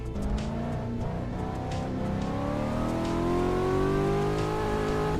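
A Cadillac driven in a video game, its engine droning steadily and rising in pitch as it accelerates, loud and close for several seconds with no talk.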